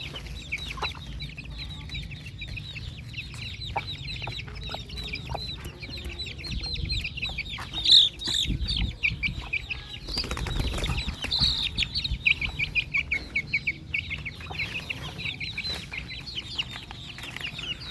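Young rooster stags cluck repeatedly in a farmyard, with a burst of wing flapping partway through and continued clucking after it, all close by.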